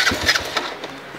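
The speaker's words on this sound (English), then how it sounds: "I'll try and see if it'll start. I haven't started it yet, so it's pretty cold." A cold Chinese motorbike engine cranks and catches briefly, a short burst of rough sputtering revs up close that fades within a second, alone without talk.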